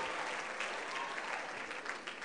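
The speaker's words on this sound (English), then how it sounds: "Can you clap your hands unto the Lord tonight?" A church congregation claps their hands in praise at a night worship gathering, a dense, steady wash of applause filling the room for a couple of seconds with no clear speech.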